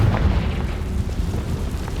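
Confringo fire spell exploding in the video game Hogwarts Legacy: a deep, rumbling boom that rolls on steadily for about two seconds with no talk over it.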